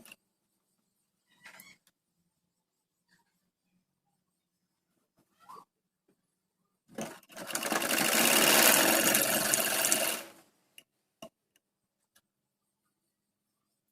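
Sewing machine stitching the folded bottom border of a kurti, a single continuous whirring run of about three seconds, close and clear, set between near silence and a few faint handling clicks.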